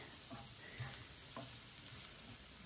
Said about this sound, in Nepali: ओइल राखेर अघि काटेको भेजिटेबललाई फ्राई गरिदिने